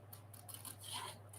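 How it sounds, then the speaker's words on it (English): Small Teflon scissors snip through quilting fabric, a soft, quiet, brief rasping cut close up with no talking. "I'm going to cut this out with my little Teflon scissors"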